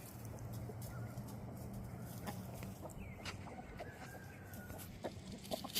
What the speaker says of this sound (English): I was getting eggs because she's clucking